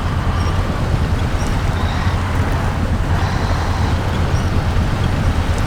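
Truck and tractor engines in the SnowRunner video game strain together while towing, a steady loud low drone of engine rumble running throughout without a break.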